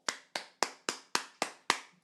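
Seven sharp, evenly spaced hand claps at a steady beat, fairly close and isolated, at an evening family show honoring a loft's birds.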